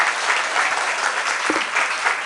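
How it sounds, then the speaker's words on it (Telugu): Sustained applause from a church congregation at a Telugu sermon, steady dense clapping throughout at moderate loudness with no talk over it. "చప్పట్లు ఎవరు కొట్టినారు"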